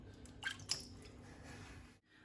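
Vegetables washed by hand in a bowl of fresh water make a few soft, close splashes and squishy sloshing sounds, faint and brief, with no talking.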